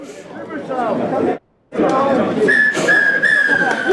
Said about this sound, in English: And the referee has blown the final whistle.